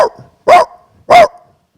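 A voice imitates a big dog, giving two loud, deep barks separated by a short pause.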